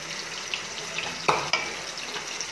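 Hilsa fish lightly frying in a pan for a traditional kochu shak dish, a steady close sizzle with a few sharper crackles and a stir or scrape partway through.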